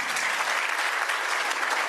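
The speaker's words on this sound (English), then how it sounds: "Yes, you can applaud." Brief burst of audience applause at a Rotary business awards event, dense steady clapping from a roomful of people with no talking.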